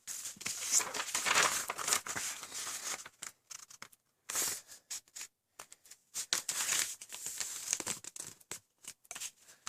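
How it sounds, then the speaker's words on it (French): Two sheets of paper are folded by hand in a quiet room, making a series of crisp crinkling and rustling bursts separated by short pauses. "on prend vos 2 feuilles, qu'on plie comme ceci"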